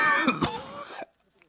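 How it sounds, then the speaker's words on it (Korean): An older man coughing and clearing his throat in a few rough, close bursts that stop abruptly into near silence. "선생님은 또 몇 번 기침을 했다."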